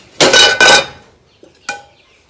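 A plate set down onto a pan of stovetop drop biscuits, two loud close metallic clatters in quick succession, followed by a soft knock and one sharper clink.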